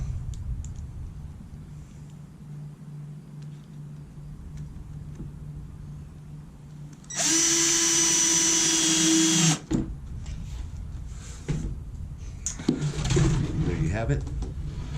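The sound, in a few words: drill driving self-tapping screws into an ice chest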